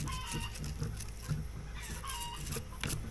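Chickens cluck and squawk back and forth over steady background noise, with several short calls from birds at different distances.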